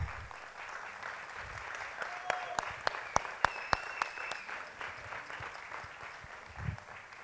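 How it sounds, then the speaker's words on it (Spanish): An audience at a folk music festival gives a fairly quiet, distant round of applause for a folk group, with a few sharper individual claps rising above the soft wash. "Un aplauso para ellos, por favor."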